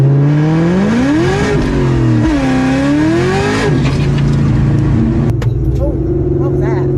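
A cammed, supercharged Cobra Terminator car accelerates hard onto an interstate, its engine roaring loudly from inside the cabin as the pitch climbs, drops at a second-to-third gear shift, then climbs again with a steady drone.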